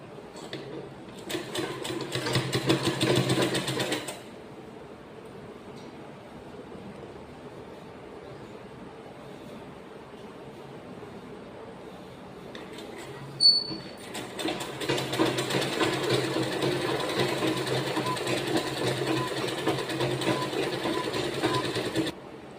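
A sewing machine stitches the joined seams of a girl's colour-neck school uniform dress, running in two long bursts of steady rapid whirring separated by about ten seconds of quiet hum, with a brief click just before the second run.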